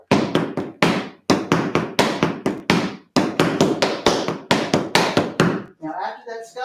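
Rapid tap dance footwork: scuffles, heel drops and steps in quick rhythmic bursts of crisp taps with brief pauses, close and clear, during a tap class, ending with a moment of voice.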